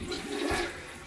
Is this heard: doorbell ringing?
no